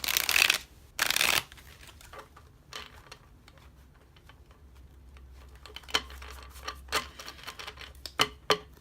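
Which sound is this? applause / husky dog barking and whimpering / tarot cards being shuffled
tarot cards being shuffled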